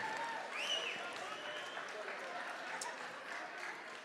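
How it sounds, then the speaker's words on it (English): A crowd at a youth academy charity auction applauds after a lot sells, a steady, fairly quiet wash of clapping from a room of people, with some voices and a brief whistle-like tone near the start mixed in. "A great big round of applause"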